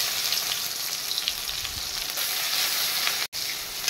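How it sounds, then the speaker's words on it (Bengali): Onion fries in oil with black cumin and green chillies, a dense, even sizzle held close and steady, with a brief cut just before the end. "পেঁয়াজটা একটু লাল করে ভেজে নেবে।"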